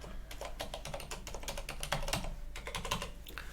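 Fingers type a password on a computer keyboard, a steady run of quick, light key clicks with a few heavier strokes, close and continuous for a few seconds with no voices.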